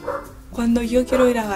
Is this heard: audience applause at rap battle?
no